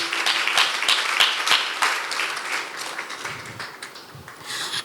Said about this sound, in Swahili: Kanisa ongeza makofi kwa Bwana Yesu.